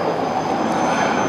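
Tornado fighter jets fly overhead during a German Armed Forces demonstration at ILA 2014, a loud, steady, continuous engine roar that fills the air without a break.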